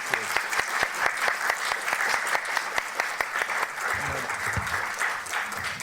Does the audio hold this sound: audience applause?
yes